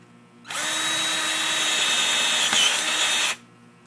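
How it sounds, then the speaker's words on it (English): A power drill bores a hole in a homemade frog gig in one continuous whirring burst of about three seconds, close and loud. "I'm drilling a hole in it"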